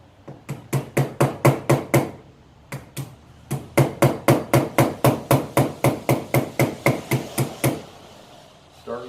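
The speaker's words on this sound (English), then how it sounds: "I just take my hammer," A hammer delivers small, quick taps to seat a seal into a bearing housing, about two dozen crisp, evenly spaced knocks in two runs with a short pause between them, close and clear with no talk.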